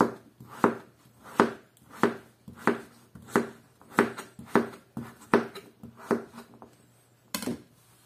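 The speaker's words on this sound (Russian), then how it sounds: "Тыкву нарезаем вот на такие кубики." A knife chops pumpkin into cubes on a cutting board, about a dozen sharp, evenly spaced thuds with brief pauses, close and clear.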